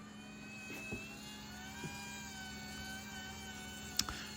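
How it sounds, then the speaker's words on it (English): Motorized power antenna on a 1964 Pontiac Catalina extending: a steady, faint electric motor whine with gear hum, close by, with a few small clicks along the way. "It's not the fastest antenna, but it does deploy completely"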